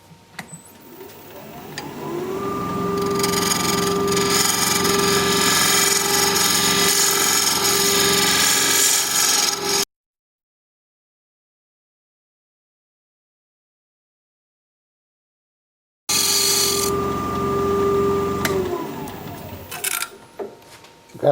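A carbide tool hollows an ironwood goblet on a lathe, making a loud, steady scraping whine as the lathe spins up, then a gap of silence, then another cut that winds down.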